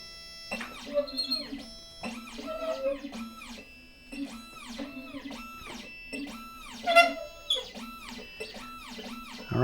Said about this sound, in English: Now the machine is going to index the clamp, and it'll go through the process of decoding the key here.